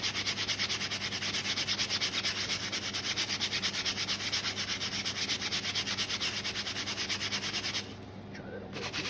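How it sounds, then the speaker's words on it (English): A stiff brush scrubs steadily across a nylon jacket during a paint-removal cleanup, giving a continuous close rubbing hiss that runs nearly unbroken before easing off near the end. "And I'm gonna use this brush that I had right here."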